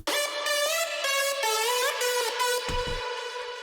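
A hardstyle lead synth first layer made in FL Studio 20, playing a bright, buzzy sustained melody with sliding pitch changes that runs alone and loud for a few seconds.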